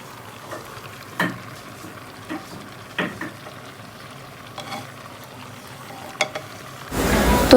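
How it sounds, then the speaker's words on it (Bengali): Onions frying in mustard oil in a pan, stirred with a few scattered scrapes and taps over a soft steady sizzle, ending in a louder burst of hiss. "তো এগুলো দেওয়া হলে একটু নেড়ে চেড়ে নেব"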